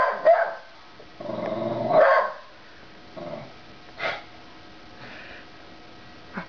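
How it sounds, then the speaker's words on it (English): A Bedlington terrier barks and growls at trash nearby, a few sharp close barks followed by quieter snorts and sniffing breaths. "You gotta sniff it now? Or are you gonna bark at it?"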